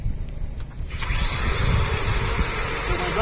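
A rotating brush on a pole, fed by a hose, whirs up after a second into a steady, close, high-pitched spin with a watery hiss as it scrubs residential solar panels, sounding alone without talk.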